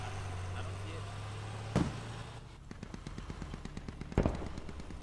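Bursts of machine gun fire ring out in the military shooter game Squad, a rapid rattling string of shots with a couple of louder sharp bangs, fairly close and mixed with other battlefield noise.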